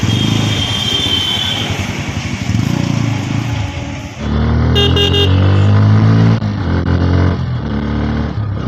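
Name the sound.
Bajaj Pulsar N160 motorcycle riding in traffic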